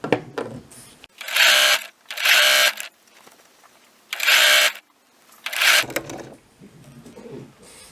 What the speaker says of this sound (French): à tourner le tissu et à continuer à coudre tout droit